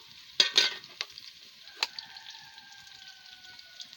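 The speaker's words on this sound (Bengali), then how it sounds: "একটু লবণ দিয়ে দিচ্ছি, তাতে পেঁয়াজটা ফটাফট গলে যাবে, ভাজাটাও ভালো হবে।" Onions with salt fry in a pan, a soft continuous sizzle punctuated by a few sharp clatters of stirring near the start, with a faint distant siren-like tone drifting underneath.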